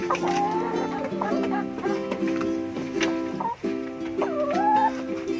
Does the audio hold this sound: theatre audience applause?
no